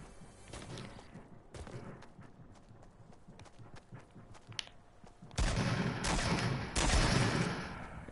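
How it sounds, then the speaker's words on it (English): Gunfire in a video game sounds as a few scattered shots at first, then a heavy sustained burst of rapid fire that rises and keeps going, moderately loud against game background noise. "Is someone shooting at me?"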